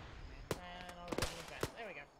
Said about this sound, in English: Yeah, sporadic fire east of the compounds.